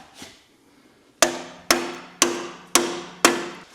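Five sharp metallic hammer strikes on a stuck truck starter ring out at an even pace after one lighter tap, each blow decaying quickly into a short ringing tail.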